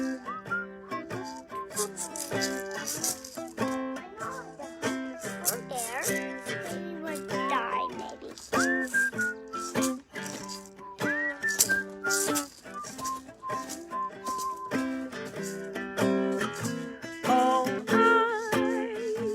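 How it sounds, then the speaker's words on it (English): A person whistles a melodic solo line over a busy acoustic accompaniment, the whistled notes rising clearly above the strummed chords and other playing through the middle of the passage. "you want to do the whistling solo"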